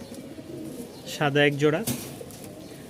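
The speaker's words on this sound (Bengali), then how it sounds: "3 জোড়া রাজশাহী গিরিবাজ আছে" A Rajshahi Giribaz pigeon gives a single soft, close coo lasting under a second, with someone talking before and after it.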